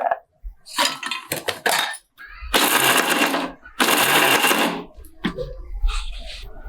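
A kitchen grinder works on cashews, almonds, pistachios and cardamom in short on-off bursts, leaving them coarse; loud whirring pulses alternate with pauses and clinks of the jar.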